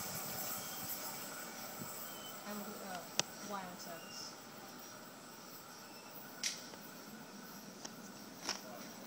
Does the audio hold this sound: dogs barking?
no